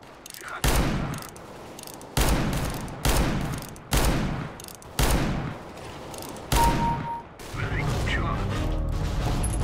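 R8 Revolver gunfire in CS:GO: five heavy, booming shots spaced about every one and a half seconds, each with a ringing tail, followed by steady game noise.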